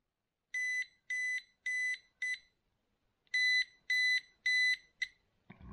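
A pinpointer metal detector sounds near a metal target: two bursts of four sharp, high, evenly spaced electronic beeps separated by a short pause, loud and close.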